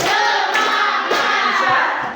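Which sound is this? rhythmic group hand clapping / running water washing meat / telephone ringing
rhythmic group hand clapping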